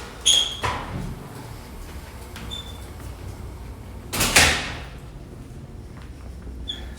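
Locked doors at a fine arts building being tried: a rattling clack of a door handle and latch, followed a few seconds later by a louder thump and scrape of a door not giving way, set against quiet room tone.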